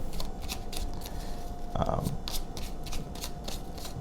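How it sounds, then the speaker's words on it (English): Tarot cards being shuffled and pulled, a series of quick, close riffling bursts in a steady rhythm, heard under ongoing talk. "We're gonna have to pull some more cards."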